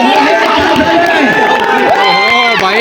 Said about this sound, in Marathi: या मानाच्या स्पर्धेमध्ये प्रेक्षकांची प्रचंड गर्दी.